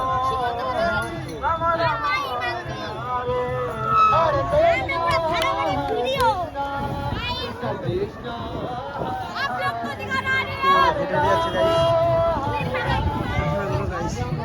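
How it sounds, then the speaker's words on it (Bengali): A dense crowd at a busy Jagannath gathering keeps up a loud, continuous babble of many voices, with some nearer speakers rising above the mass now and then. "কত ভিড়"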